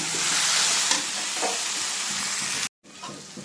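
Cabbage with fish head sizzles loudly in a pan as ghee and garam masala are stirred through it. The hiss is continuous and close, briefly cut off near the end before resuming.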